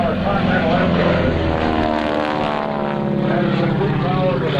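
A PT-17 biplane with a 450 hp R985 radial engine flies past at an airshow, its loud propeller drone holding steady while a voice talks over it.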